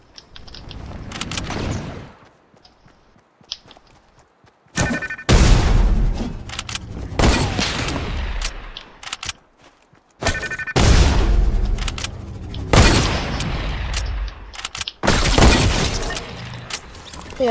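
Sniper rifle shots in a video game crack out loud and close in several sharp, booming blasts with shattering tails, separated by quieter gaps, and no talk over them.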